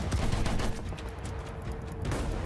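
Friendly gunfire rattles in a Battlefield 1 battle, a dense continuous fusillade of rifle and machine-gun shots at mid distance, with no voices over it.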